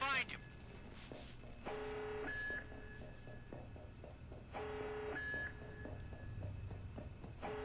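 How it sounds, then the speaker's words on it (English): Electronic beeping sounds in the video game Watch Dogs 2, two bursts of repeated tones, each a couple of seconds apart, sounding over quiet game ambience and voices. "Endless beeping."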